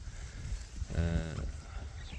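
A single Hissar sheep bleat, a wavering nasal call lasting about half a second, rises over low rumbling background noise.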